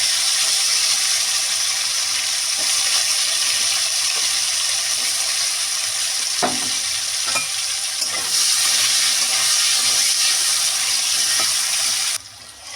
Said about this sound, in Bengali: এবার ভেজে নেবো গাজরগুলো হালকা করে ভেজে নেবো, যাতে কাঁচা গন্ধটা না বেরোয়।